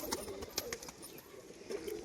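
Pigeons cooing softly, with a female pigeon among them, low repeated coos close by under light chirps and faint background noise.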